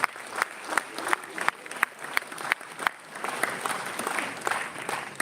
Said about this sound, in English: A round of applause to the co-founders and the founder.